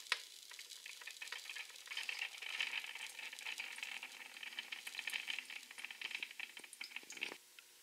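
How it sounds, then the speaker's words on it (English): An iCoffee brewer agitates coffee grounds with water in a home kitchen, giving a steady bubbling, churning hiss with scattered small ticks and clicks that runs continuously at moderate level before cutting off abruptly near the end. "doing a great job of agitating the coffee grounds with water"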